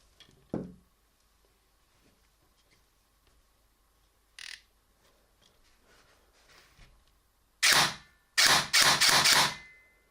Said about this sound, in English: Gearbox is now assembled with motor installed. Let's do a quick test.